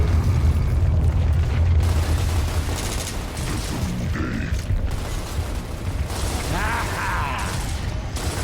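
Grenade blasts in the shooter game Gears of War Reloaded: deep booming rumbles mixed with mechanical clatter and gunfire-like bursts, continuous and dense with no spoken voice.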